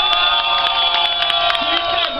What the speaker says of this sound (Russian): Взрослые аплодисменты нашему бармену.